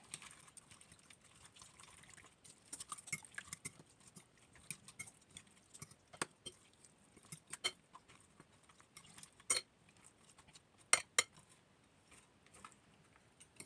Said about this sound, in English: Give this a nice couple of stirs to combine.